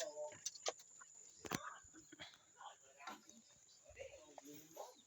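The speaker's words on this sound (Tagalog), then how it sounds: "papakain na ako ng manok ko." Soft clucking from chickens scattered through the clip, with occasional louder calls and a talking voice over a faint background hum.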